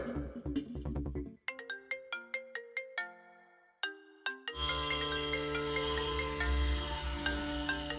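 A mobile phone ringtone plays a bright electronic melody of evenly spaced plucked notes, then settles into a fuller sustained musical tone, loud and close with no talk over it.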